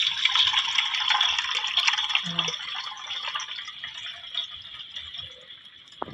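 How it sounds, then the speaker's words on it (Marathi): Dirty, dark water from washing poha being poured from a vessel into a pot, a continuous close splashing pour that gradually thins and softens toward the end, with faint background noise. "आता हे पाणी मी पातेल्यामध्ये ओतून घेते ते बघा किती घाण काळं पाणी चाललं बघा"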